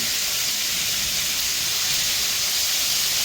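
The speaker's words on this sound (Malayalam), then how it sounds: "അതിനനുസരിച്ച് എണ്ണ ഇവിടെ തെരച്ചുകൊണ്ടിരിക്കുന്നു" Chicken frying in spluttering hot oil, a loud, dense, continuous hiss with steady crackle and no pauses, heard up close.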